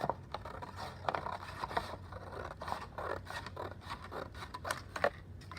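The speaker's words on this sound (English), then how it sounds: "We're gonna take our scissors and we are going to cut on those lines." Scissors cut along drawn lines on paper, a run of quiet snips and scraping crunches in an uneven rhythm, close and faint with no talk.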